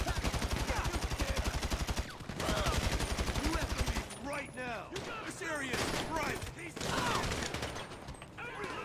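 Sustained automatic gunfire in Grand Theft Auto Online, a loud continuous rattle of rapid shots for about four seconds, then more broken bursts mixed with other game noise and voices talking over it.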